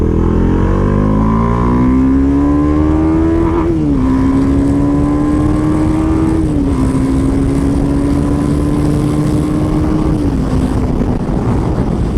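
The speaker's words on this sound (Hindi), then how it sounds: "Riding this bike at high speeds is so much fun, like I cannot control my hand from whipping the throttle." Bajaj Dominar 400 motorcycle at high speed: a loud, close engine drone holding a steady high pitch with brief dips at gear shifts, under heavy wind roar and no voices.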